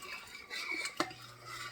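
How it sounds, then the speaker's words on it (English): A spoon stirring Cajun after-the-boil soup in a pot, soft scraping and swishing capped by one sharp clink of metal against the pot. "Let's stir all of this."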